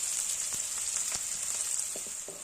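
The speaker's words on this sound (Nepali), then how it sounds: "एकछिन भुट्नु पर्छ प्याजलाई।" Finely chopped onions with cumin seeds sizzling in hot oil in a pan, a loud, continuous bright crackle with a few soft stirring knocks.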